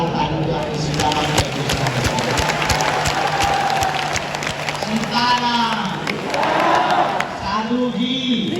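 A large devotional gathering at Bageshwar Dham claps and cheers in a loud, dense roar, with voices chanting and shouting Sita Ram over the applause.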